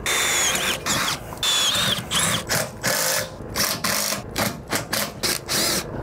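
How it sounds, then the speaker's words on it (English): Cordless power drill pre-drilling screw holes inside an RV, close and loud, whining in repeated bursts of about half a second to a second with short pauses between, each burst changing pitch as the bit bites. "Pre-drilling the holes."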